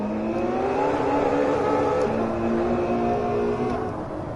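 A Ferrari in Assetto Corsa runs with a sustained, close engine drone, a smooth tone that rises and settles as it holds revs, loud and alone.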